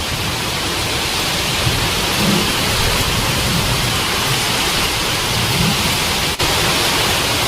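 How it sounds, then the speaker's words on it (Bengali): Heavy rain pours down in a dense, steady hiss that stays loud and unbroken throughout, with no voices. "ভালোই জোর বৃষ্টি পড়ছে।"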